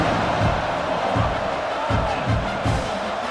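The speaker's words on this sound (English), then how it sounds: "this crowd is buzzing after that last score" A stadium crowd in the College Football 26 video game buzzes loudly and continuously, a dense wash of murmuring and cheering with low rhythmic thumps pulsing beneath it, with a commentator's voice faintly mixed in.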